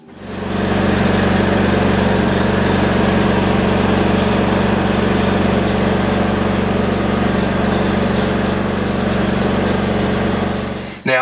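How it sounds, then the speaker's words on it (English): A heat gun shrinks heat-shrink tubing on boat wiring aboard a trawler, producing a loud, steady blowing whir that starts abruptly, holds unchanged for about ten seconds and then cuts off. "we'll put the heat gun on that to shrink it down"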